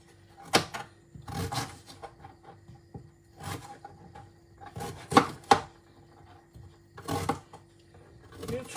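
A knife chopping ginger on a cutting board in irregular bursts of several quick strokes, close by, with short quiet gaps between.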